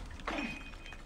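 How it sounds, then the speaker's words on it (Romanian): In the horror game The Outlast Trials, a thrown glass bottle breaks with one brief, bright shatter that rings off quickly, faint against low background noise. "Cum a aruncat o sticlă în altă parte."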